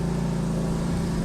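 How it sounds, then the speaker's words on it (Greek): The engine of an AS 920 Sherpa 2WD self-propelled flail mower runs loud and close, a steady mid-pitched drone held through the brief moment with no one talking. "Αυξάνουμε στροφές στον κινητήρα"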